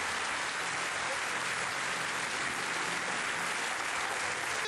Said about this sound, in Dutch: Dank een warm applaus, Mega Mini en onze geweldige Linda.